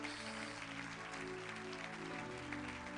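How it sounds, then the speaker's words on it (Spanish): Church congregation applauding with steady broadband clapping at moderate level, blended with sustained music and tonal hum throughout, continuous over the whole stretch. "Denle un fuerte aplauso a Dios"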